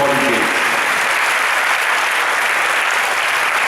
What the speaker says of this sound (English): Now let's give them a round of applause for flying all the way here to support the game.